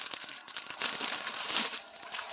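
Crinkly plastic packets rustling and tearing open up close, a run of bursts of crackling wrapper noise with brief pauses, no voices.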